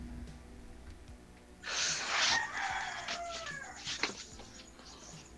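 A rooster crows once, loud and fairly close, a drawn-out call rising over a quiet background hum and trailing off into faint clucks.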